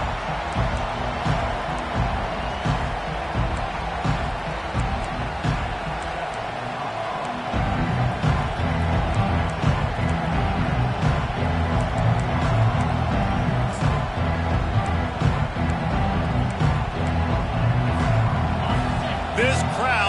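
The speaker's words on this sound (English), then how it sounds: "This crowd bringing an ear-splitting welcome to their visitors." Stadium crowd roaring loudly and continuously at a college football game with LSU kicking off in a video game, a dense wall of cheering under play-by-play commentary throughout.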